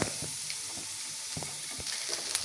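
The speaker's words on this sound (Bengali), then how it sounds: "রসুন ও পেঁয়াজ কুচি দুই তিন মিনিট ভাজার পর যখন কিছুটা সফট হয়ে যাবে" Chopped garlic and onion fry in a wok with a continuous hiss. Light spoon scrapes and stirring taps recur through it, and no one speaks.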